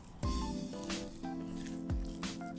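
Milk is poured and worked into carrot cake batter, giving close, wet squelching and slurping sounds that repeat in soft pulses with no voices.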